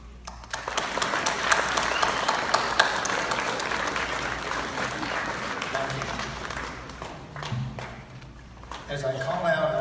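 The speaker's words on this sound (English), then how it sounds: "give a round of applause to your family, parents, and friends" A crowd at a high school graduation ceremony claps loudly and continuously, a dense patter of applause that swells, then tapers near the end as a voice begins speaking.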